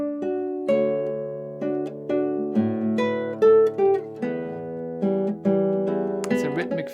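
Classical guitar repeating a fixed bass-and-chord rhythmic figure from João Pernambuco's Sons de Carrilhões, a low bass note followed by two lighter chord strums, played clearly and close with ringing sustain, alone without talk.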